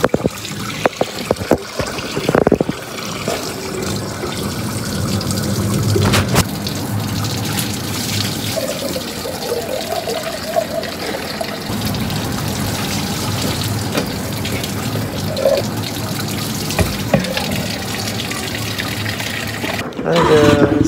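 Water runs from a tap in a continuous trickling flow, with speech over it and bumps and knocks near the start and end.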